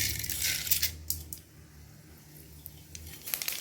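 Mustard seeds dropped into hot oil in a pan on the stove, a bright crackling sizzle with a few sharp pops and ticks, close and fairly loud, easing into a quieter hiss before flaring again.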